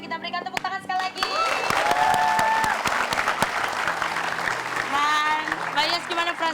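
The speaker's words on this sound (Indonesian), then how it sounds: "Tepuk tangan sekali lagi." An audience applauds loudly and steadily with a few cheers, while voices and bright musical tones sound over the clapping.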